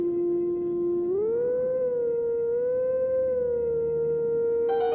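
A wolf howls in a video game, a single long, loud tonal cry that starts low, swoops upward and holds a steady pitch for several seconds, heard alone.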